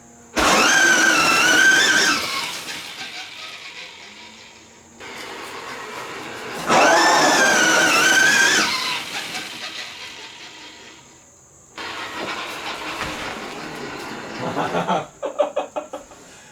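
A homemade six-speed electric three-wheeler whines up through its gears, with rising motor tones repeated in loud bursts separated by short pauses and a rough rattling buildup near the end.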